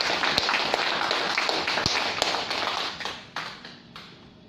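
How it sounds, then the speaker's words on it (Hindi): An audience at an LIC insurance study circle meeting claps, a dense patter of applause with a few sharper claps that thins and fades toward the end. "तालियां बजाइए जोरदार।"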